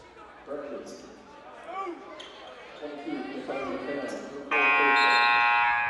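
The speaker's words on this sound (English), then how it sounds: "Can't get enough of that buzzer." A loud, sustained buzzer blares near the end of a college basketball game, following a stretch of excited commentary and crowd noise with sneaker squeaks.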